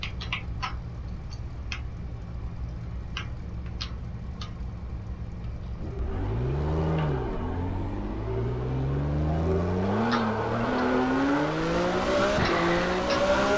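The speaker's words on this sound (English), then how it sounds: "Spin the car around." A racing car in the rFactor sim spinning around, engine rising and falling in pitch with tire squeal after a stretch of idle engine rumble and light clicks, loud and sustained.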